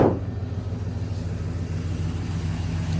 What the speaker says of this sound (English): you can hear it's just got a nice kind of muscle car rumble to it